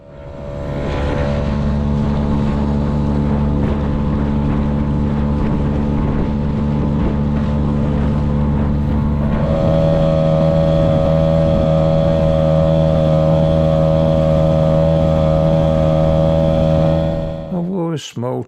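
A small 3.3 hp two-stroke outboard motor drives an inflatable kayak boat, loud steady high-revving drone that climbs in pitch midway as the throttle opens, with wind and water noise, ending abruptly.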